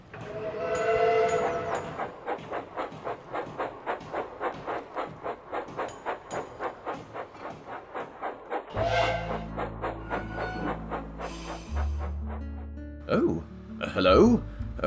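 A departing train in an animated Sodor railway episode, with a steady rhythmic chuff-like beat that runs for several seconds, then rumbling movement and a brief whistle-like tone near the end, partly under voices.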